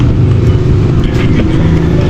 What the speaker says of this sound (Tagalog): At ito na yung motor.